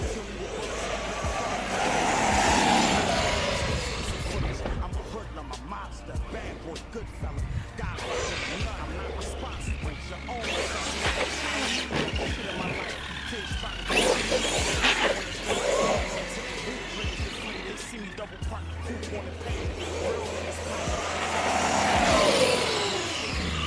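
Arrma Kraton 8S RC car with an upgraded ESC and stock spur gear, whining and surging loudly as it accelerates and races around, with tire noise mixed in and people talking over it throughout.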